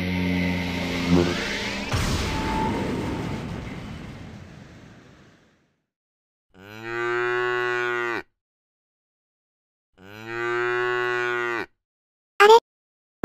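A cow moos twice in long, drawn-out calls after a noisy opening rumble, each moo loud and close with a silent gap between, followed by a brief sharp sound at the end.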